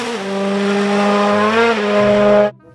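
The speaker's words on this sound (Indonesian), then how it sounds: "ada mobil balap." A toy race car sound effect plays a loud, close, electronic engine whine that rises in pitch and then cuts off abruptly after about two and a half seconds.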